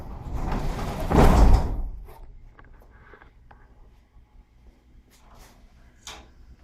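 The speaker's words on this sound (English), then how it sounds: "I'm going to pull the door down." Residential garage door pulled down by hand, winding its torsion spring: a loud rolling rumble for about two seconds ending in a thud, then quiet with faint clicks and creaks.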